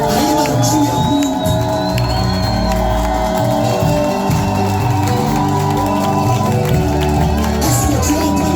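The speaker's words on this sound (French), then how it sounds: "est-ce que tu peux maintenant lui donner des acclamations?" A church congregation cheers and shouts acclamations during a worship service, a loud, sustained roar of many voices with whoops and calls rising over a continuous crowd din.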